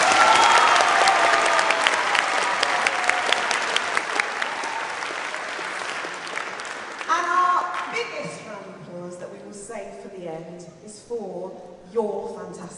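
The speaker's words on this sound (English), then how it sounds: "Give yourselves a round of applause." Applause from the audience at a winter concert of young musicians fills the room loudly, then fades over several seconds until a voice starts talking over the thinning claps.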